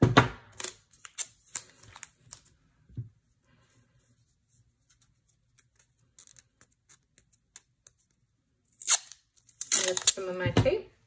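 Pieces of tape tear in short crisp rips, close up, in scattered bursts separated by quiet pauses, with a longer noisy stretch of ripping near the end.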